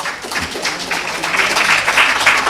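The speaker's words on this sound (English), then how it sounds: "Please, let's give them a round of applause." Audience at a quiz event applauding a team, a loud, dense wash of clapping that swells steadily across the whole moment.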